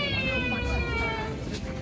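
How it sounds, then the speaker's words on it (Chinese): A cat meows on a music video set, its cries mixed in with people chatting and laughing nearby at steady, moderate loudness. "发生了猫叫。"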